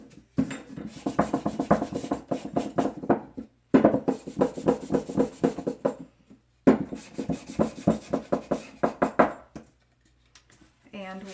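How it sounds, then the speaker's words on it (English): Sandpaper scrubs back and forth across the edges and face of a painted wooden sign in three bursts of quick, rhythmic strokes, close and raspy, with short pauses between. "you can also sand it around the edges and on the entire surface to create even a more distressed look"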